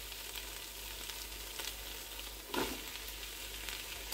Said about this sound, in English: Now we're going to go in with our corn.